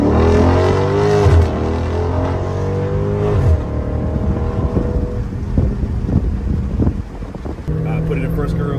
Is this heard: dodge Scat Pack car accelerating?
yes